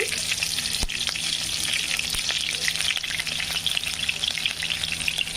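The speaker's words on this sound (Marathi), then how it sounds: "अर्धा चम्मच जिरे आणि अर्धा चम्मच सोप टाकून घेते आणि हिरवी मिरची" Cumin seeds, fennel seeds and green chilli frying in hot oil for a vaghata fruit (govindphal) vegetable dish, a loud continuous close sizzle and crackle with one sharp tap of a utensil near the start.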